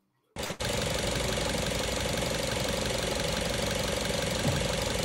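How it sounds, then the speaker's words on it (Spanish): After a brief moment of quiet, a car engine settles into a steady, even idle, a dense continuous mechanical hum held close and loud throughout with no talking. "Ahí estamos en marcha mínima"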